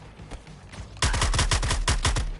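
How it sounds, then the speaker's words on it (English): Rapid gunfire from the video game Suicide Squad Kill the Justice League: after a second of quieter background, a loud, fast burst of closely spaced shots rattles on continuously to the end, with no talking. "The actual shooting feels very responsive, and like I say, being in the air and firing is quite cool."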